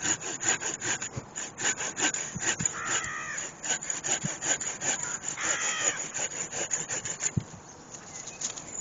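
A handsaw cuts through a pear tree branch outdoors in rapid, rhythmic back-and-forth strokes, fairly faint, with a crow cawing in the background.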